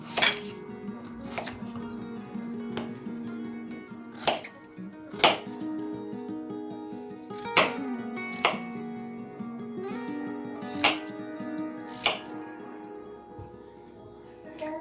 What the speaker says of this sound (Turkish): sosta beklerken ben de patateslerimi doğrayayım.